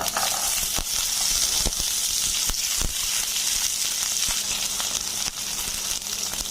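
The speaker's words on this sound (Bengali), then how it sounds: "রসুনগুলো আমি 2 মিনিট ভেজে নেব।" Garlic frying in hot oil in a pan, a loud steady sizzle that holds evenly throughout with occasional sharp crackles and pops, no talking.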